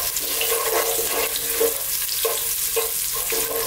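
Star anise and dried chilli fry in hot oil with garlic for a vegan Chinese noodle dish, a steady close sizzle broken by soft clinks of stirring.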